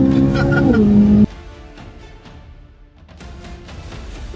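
A Lotus Emira sports car with a 400-horsepower 2-liter turbocharged four-cylinder engine pulls away, its loud engine note rising briefly before cutting off and fading into quieter road and wind noise.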